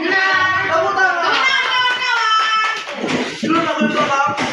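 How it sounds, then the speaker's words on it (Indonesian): Children clap in a classroom, brief rhythmic hand claps mixed into loud, sustained young voices chanting together. "Tepuk tangan"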